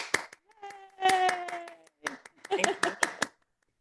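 Scattered, uneven claps from participants on a Zoom video call, picked up over laptop microphones and mixed with overlapping voices and cheers, with brief gaps between bursts.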